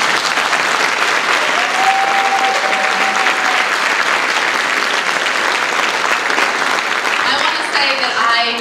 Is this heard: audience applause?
yes